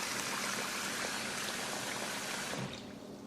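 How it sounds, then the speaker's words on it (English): Cold water running into a bowl of rice and dal, a steady close rushing pour that eases off toward the end. "We'll just first fill up our bowl with cold water."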